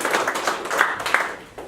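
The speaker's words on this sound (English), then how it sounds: "I would like to hear very big applause for them" Small meetup audience applauding the event sponsors, a short burst of scattered hand claps from a modest crowd.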